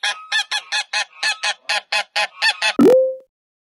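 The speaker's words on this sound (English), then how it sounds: "Goose." A goose honks in a rapid series of about a dozen short, nasal, evenly spaced calls, loud and close, followed by one brief closing tone.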